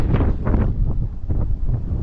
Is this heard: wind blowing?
yes